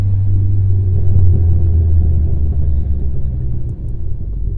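A manual-transmission car pulls away as its clutch is let out, with a steady, loud low engine rumble that holds throughout and dips slightly near the end.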